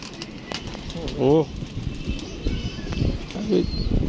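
A homing pigeon back from its flight gives a short, close throaty coo, followed later by another soft call, with someone talking over ongoing outdoor background noise.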